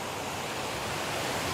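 A river falls as a waterfall into the Indian Ocean surf on Mauritius, a dense steady rushing roar of water and waves, close and unbroken.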